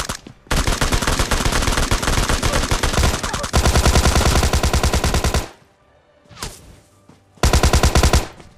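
SKS rifle fire in PUBG Lite, loud rapid volleys of shots in long sustained bursts, broken by a short quiet stretch and a few brief closing bursts, with no talk.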